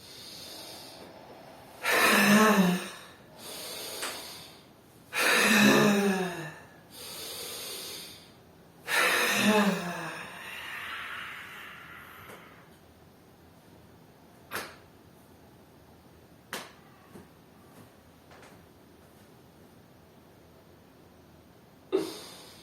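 Deep breathing exercise in a quiet room: three strong, drawn-out breaths come close and loud, each followed by a softer exhale, then sparse faint clicks and brief sniffs over near silence.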